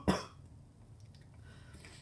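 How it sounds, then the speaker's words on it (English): One short, close cough stands out against a quiet room, followed by faint low background hum and small shuffling sounds. "and then I coughed."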